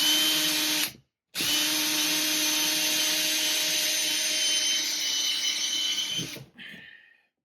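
A power drill bores holes into a wall for a mounting plate, two loud sustained bursts separated by a brief pause, the motor winding down at the end.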